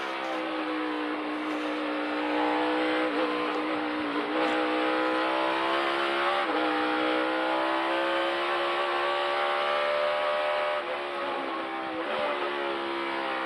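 A NASCAR race car on a qualifying lap at Sonoma Raceway, its V8 engine holding a loud continuous drone with shifting pitch through corners, close and sustained throughout.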